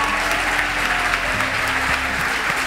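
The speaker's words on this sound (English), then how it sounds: "these good people over here deserve a round of applause" Steady, dense applause from an audience at an urban tribes awards event, filling the whole moment at an even, fairly loud level with no break.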